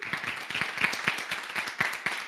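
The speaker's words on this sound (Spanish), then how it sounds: "Te dejamos un aplauso" A small audience applauds at the close of a professional workshop talk on economics, with close, lively, uneven claps that hold steady for a couple of seconds.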